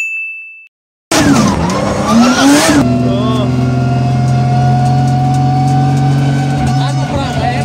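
Drift car engine at a drift park: a sudden loud rev climbing and dropping, then a sustained steady high-revving drone with tyre noise, close and continuous after a brief silence.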